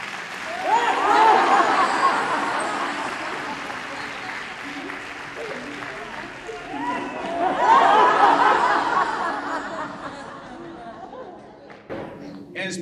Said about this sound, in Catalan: I el públic va riure i va aplaudir.